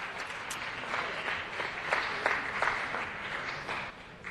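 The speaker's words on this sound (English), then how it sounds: "let's give all our Pioneer Women a final round of applause" An audience at a city council meeting applauds honored Pioneer Women, a steady, moderately distant crowd of clapping hands that holds through to the end with a slight drop at the close.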